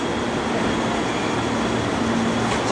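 A Meitetsu express train on the Nagoya Main Line pulls in at Kanayama station platform 4, a steady close rumble of wheels and motors filling the platform throughout with no pauses.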